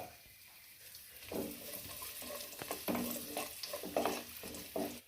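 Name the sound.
cashews and raisins added to hot pan, frying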